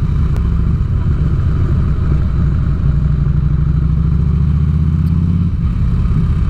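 A 2006 Harley Ultra Classic motorcycle with a Reinhardt exhaust and stock air filter idles and rumbles steadily at close range, a deep continuous low throb that shifts slightly near the end, with no talk over it.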